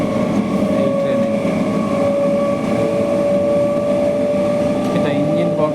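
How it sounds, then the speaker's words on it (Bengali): Loud, continuous engine roar and rumble inside the engine coach of a local train at night, a steady droning hum with a constant tone throughout and a voice talking over it. "এটা ইঞ্জিন বগি, তাই একটু জোরালো ইঞ্জিনের আওয়াজ হচ্ছে।"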